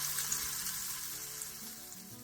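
A thick rolled egg omelette with vegetables cooks in a pan, giving a steady, close sizzle and crackle of frying egg that holds evenly throughout, with no talking.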